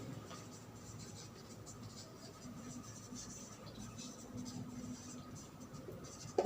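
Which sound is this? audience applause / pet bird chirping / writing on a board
writing on a board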